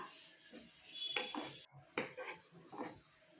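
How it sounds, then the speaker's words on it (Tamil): Chopped spinach is stirred in a pan, giving a few soft scraping strokes and light metallic clinks of a utensil against the pan, quiet and close with a faint background hiss. "நம்ம கட் பண்ணி வச்சுருக்க பாலைக்கீரை இதில் வந்து சேர்த்துக்கலாம் சேர்த்துட்டு நல்லா கிளறி விட்டுக்கலாம்"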